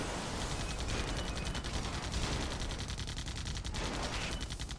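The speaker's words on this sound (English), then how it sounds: "I'm taking heavy fire." Artillery and missile fire in an Airmech Arena battle roars on without a break, a dense barrage of rapid booms and crackling blasts, loud and close throughout.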